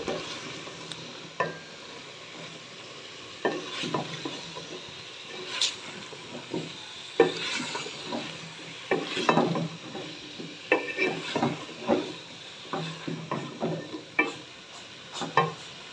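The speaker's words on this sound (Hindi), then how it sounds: "अभी इनको मिक्स करती हूँ और अच्छी तरह आलू और बैंगन की भुनाई करती हूँ।" Potatoes and eggplant being stirred and roasted in masala, a soft background sizzle broken by frequent spatula scrapes and clinks against the pan.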